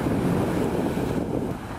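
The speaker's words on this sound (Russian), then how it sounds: "Вон какое море." Sea waves wash in at Lyubimovka beach in Crimea in a brief, steady, fairly loud surge of surf mixed with wind rumbling against the microphone.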